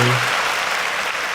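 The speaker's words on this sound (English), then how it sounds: "Can I get some applause for the shade lounge?" Brief burst of applause and cheering for the shade lounge, a dense wash of clapping that sits behind a short voice at the start and holds steady for about a second.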